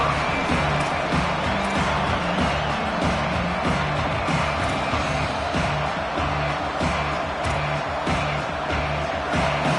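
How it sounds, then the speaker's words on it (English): A football stadium crowd roars in a dense, continuous wash of noise, loud and unbroken, without distinct voices standing out. "This crowd going to try to make life miserable for these guys."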